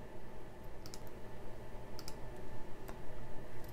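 A few scattered computer mouse clicks, isolated and light, sound over a steady low hum while someone clicks through a marketing files menu to copy a URL.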